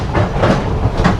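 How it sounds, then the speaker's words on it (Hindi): A local train pulls out of a station in Colombo, its wheels and carriages rumbling in a rhythmic, close clatter. "एंड ये निकल गई हमारी ट्रेन।"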